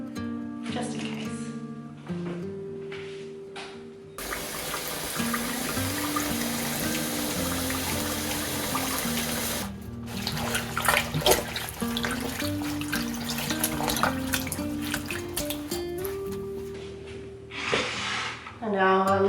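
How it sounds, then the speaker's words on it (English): Tap water runs steadily into a kitchen sink while leek stems are washed in a salt water bath, a continuous splashing hiss broken by brief pauses, with a voice talking over it. "I'm actually going to throw them into a salt water bath in the sink just to make sure that there's no like bugs on them"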